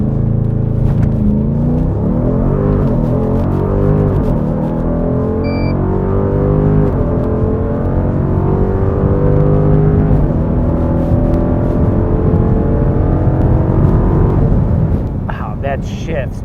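A 2021 Dodge Durango SRT launches hard down a drag strip, its engine roaring loud and close with rising gear sweeps and a hard shift, then the roar drops away near the end.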